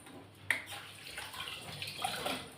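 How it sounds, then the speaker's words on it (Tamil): Ground paste for a pineapple kulambu poured from a blender jar into a separate vessel, a soft watery sloshing and trickle after an opening knock, fairly quiet and steady throughout. "இதை வந்து ஒரு தனி பாத்திரத்தில் ஊற்றி வச்சுக்க போகிறேன்."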